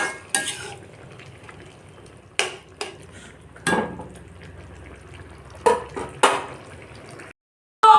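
Bhaji being stirred in a pan at home: a low steady frying hiss broken by several scraping clatters of a spatula against metal, close and fairly loud, then a short silence near the end.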